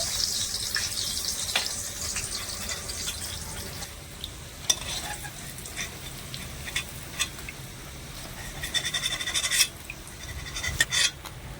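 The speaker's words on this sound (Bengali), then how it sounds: "এবারে এই গরম জলের মধ্যে এই পনিরের টুকরোগুলো আমি এভাবে দিয়ে দেব" Paneer pieces go into a bowl of warm water in a home kitchen, with soft splashes, light clinks and watery stirring noises scattered over a steady wet background.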